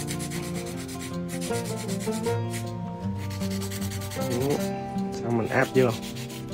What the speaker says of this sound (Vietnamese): mình sẽ giũa nhẹ xuống hai bên hông, giũa nhẹ xuống nè